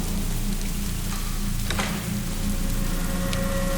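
Heavy rain pours steadily, a dense hiss of drops drumming on surfaces, with a faint brief tone in the background.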